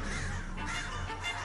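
A single crow gives a short, fairly faint caw against a soft background hiss.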